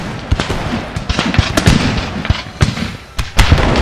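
Artillery guns fire in Empire: Total War as a rapid, irregular volley of sharp booms and cracks, some overlapping, loud and close, with no talking.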